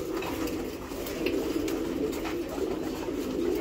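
A flock of pigeons in a loft keeps up a steady, dense chorus of overlapping low cooing throughout, with no pauses.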